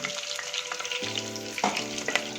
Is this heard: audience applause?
no